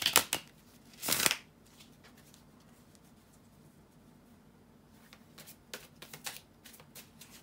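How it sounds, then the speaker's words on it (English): Tarot card shuffling in two quick bursts, a riffle then a longer flurry, followed by lighter scattered card snaps and taps in a quiet room. "to shuffle the tarot cards"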